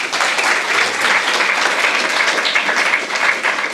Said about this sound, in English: So please give our sponsors a round of applause.